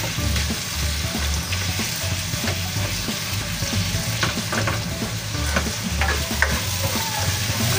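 Tomatoes sizzle and crackle steadily as they are stir-fried in a hot pan for tochong tilapia, with a continuous frying hiss and scattered scraping taps of a utensil against the pan, no voices.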